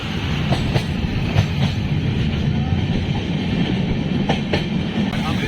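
Amrit Bharat Express train running on the tracks, heard from on board as it crosses a barrage: a steady, loud rolling rumble with occasional faint clicks of wheels over rail joints, continuous throughout.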